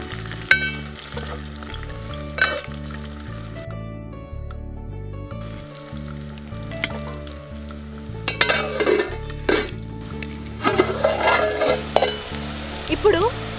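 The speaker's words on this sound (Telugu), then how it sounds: "ఉల్లిపాయలు ఎర్రగా గోలేదాకా మూత పెట్టుకోవాలి. మధ్య మధ్యలో కలుపుకుంటూ ఉండాలి" Onions fry in a pan and are stirred while cooking for a chicken curry with chana dal, giving an intermittent sizzle and scraping that grows busier toward the end, under steady background music.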